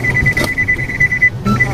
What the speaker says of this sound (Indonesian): Dengar bunyi beep beep beep.